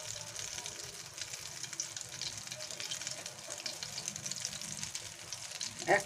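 Dried red chillies fry in leftover prawn-frying oil, a faint, soft sizzle with light stirring and a clatter near the end.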